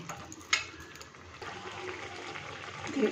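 Water poured from a small vessel into a pan of ridge gourd and potato pieces for a home-style posto dish, a steady splashing trickle that starts with a brief clink and runs alone for a few seconds.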